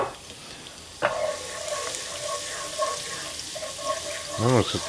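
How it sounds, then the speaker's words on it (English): Garlic and Espelette chili flakes frying gently in oil in a pan, a soft steady sizzle with a light clink near the start and a rising scrape toward the end. "Just let that garlic kind of sweat down in here."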